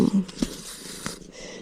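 An elderly cat purrs softly up close, a low rumbling texture with a few brief sharper sounds near the start.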